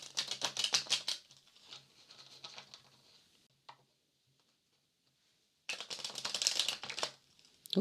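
A deck of cards is riffle-shuffled during a card reading, in two quick rattling bursts with a quiet pause between them.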